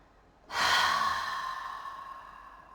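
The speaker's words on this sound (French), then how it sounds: "Et en expirant, en fait, on va souffler fortement et puis on va relâcher les épaules" One forceful exhalation during yoga breathing, a loud breathy rush that starts suddenly and fades slowly over about two seconds, close and alone.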